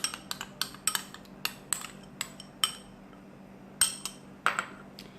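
A spoon stirs chili garlic sauce into mayonnaise in a bowl, giving a dozen light, irregular clinks and taps against the dish over a quiet background.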